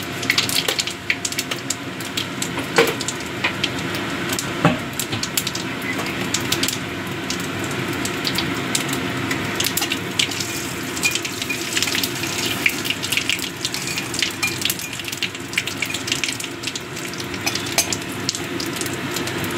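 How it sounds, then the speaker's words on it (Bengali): Whole cumin seeds frying in hot oil in a pan, a long run of busy crackling and sputtering sizzle with sharp pops scattered throughout, close and fairly loud, with no voices. "জিরেটা চড়মড় করে উঠেছে, ভাজা হয়ে গেছে"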